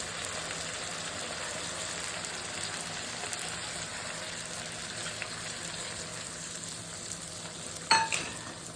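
Slit green chillies frying with turmeric and mustard paste for a fish curry with eggplant and onion greens, a soft continuous sizzle with a brief clatter near the end.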